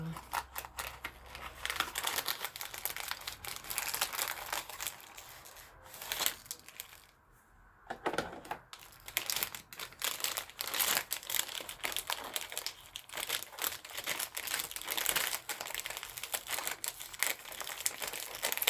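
Crinkling and crushing of Haagen-Dazs ice cream packaging being handled up close, with irregular bursts of rustling and tearing-like crackles throughout, a brief quieter gap midway.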